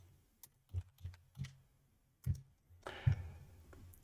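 Keys being typed on a computer keyboard, a handful of soft separate clicks spaced irregularly, then a short quick burst near the end, faint and close with no voices.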